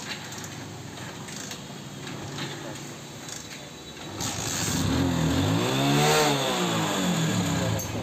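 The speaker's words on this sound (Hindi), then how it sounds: "बाइक को स्टार्ट करते हैं, बाइक स्टार्ट हो रही, एकदम से रेस बढ़ जा रही बाइक की" A Hero motorcycle engine with a faulty smart throttle, making revs climb on their own, starts and idles roughly, then revs up sharply, its pitch sweeping high and falling back repeatedly, loud and close.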